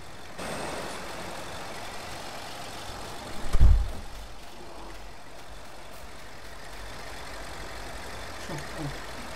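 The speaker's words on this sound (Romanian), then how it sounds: "Tractor românesc pe mapă mugurească." A Romanian tractor engine in a farming simulator game holds a steady, low mechanical drone throughout, with one brief louder thump partway through.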